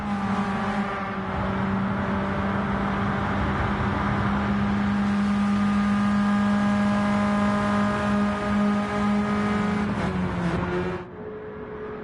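Race cars lapping in Gran Turismo 7 at Daytona, a loud sustained engine drone that holds steady, then a brief pitch dip as revs fall near the end.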